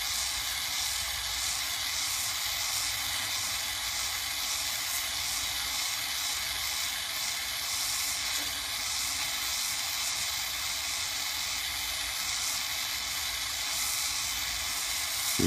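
A torch flame melts gold and stirs the molten metal, giving a loud, steady, even hiss that runs on without a break from start to finish.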